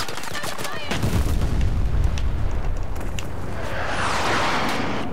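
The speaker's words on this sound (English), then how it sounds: "That's my grenade." A grenade detonates in the Battlefield 2042 video game on the Manifest map: a deep, heavy boom that rolls on for several seconds, with sharp gunfire cracks before it and a hissing debris tail after.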